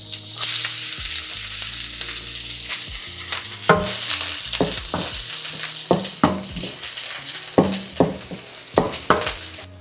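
Onion and garlic sautéing in hot oil for tofu and eggplant adobo, an intense close sizzle with repeated scraping strokes and clacks of a spatula against the pan, no talking.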